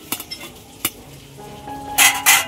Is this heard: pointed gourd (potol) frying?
yes